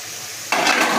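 Rohu fish roe with curry leaves is stirred in a pan as its water cooks off. A quiet simmer suddenly gives way halfway through to a louder close scraping stir over bubbling sizzle, with no voices.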